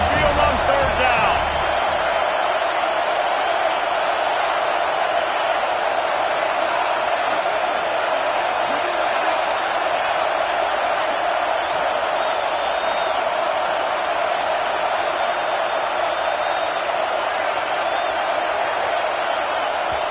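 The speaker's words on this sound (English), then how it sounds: "The Tide crowd rolling noise down on the Saban field on third down." Stadium crowd roaring for the Alabama Crimson Tide on third down in a college football video game, a dense, continuous, loud wash of noise with no breaks.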